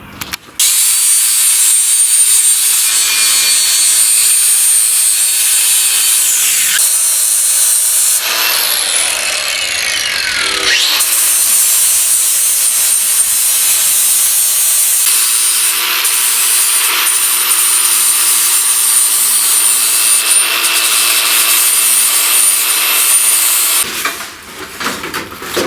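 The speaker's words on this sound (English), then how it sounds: "Alright, so we grinded up everything over here." Angle grinder grinding metal parts ahead of welding, a loud, continuous harsh rasping whine that shifts in pitch as the disc bites, with a brief sweeping change midway and no talk.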